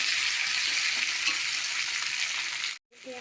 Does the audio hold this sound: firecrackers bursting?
no